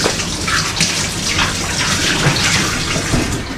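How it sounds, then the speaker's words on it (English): Hands are rinsed under a running tap in a home kitchen. The water gushes in a loud, steady stream close by, with no talking. "Right, just rinse my hands."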